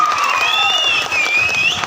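Audience at a Dhauli gananatya folk theatre comedy show breaking into loud, steady applause; dense, continuous clapping from a crowd fills the whole moment, with a whistle-like tone gliding above it.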